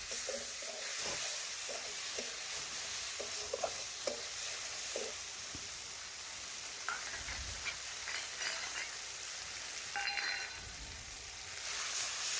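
Egg and red lentils fry in a pan with turmeric and chili powder, giving a steady sizzle and hiss. A spoon scrapes and clinks now and then as it stirs the mix.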